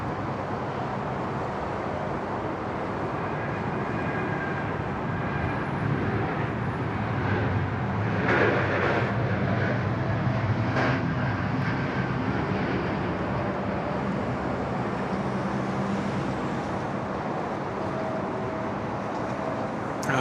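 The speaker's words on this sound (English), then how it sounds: "Here we go, Jetstar 787." A Jetstar Boeing 787 airliner takes off at Sydney Airport, its engines a broad, steady roar that holds loud and continuous for the whole stretch with no voices over it.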